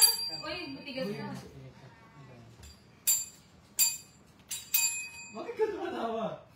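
A bell is struck four times in a row, bright close rings with short gaps between them, and people talk before and after the rings during a casual live hangout.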